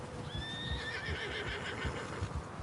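A horse in the Red Dead Redemption 2 video game lets out a clear, loud whinny with a falling, wavering pitch. Soft hoof clip-clops go on underneath it.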